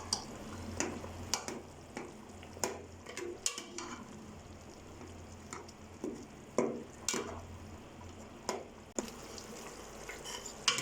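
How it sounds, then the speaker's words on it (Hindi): A spoon presses and stirs tomatoes into a bubbling lamb karahi gravy, giving soft sizzling with scattered clicks and scrapes against the pan, fairly quiet and with no talking. "इनको यहीं पे ही चम्मच के साथ दबाकर इन्हीं टमाटरों की हम ग्रेवी बनाएंगे"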